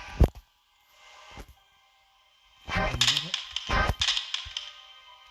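Rifle shots in the horror game Granny 5: a sharp crack near the start and another around 1.4 s, then a busier stretch of overlapping cracks and clatter, with faint game sounds in between.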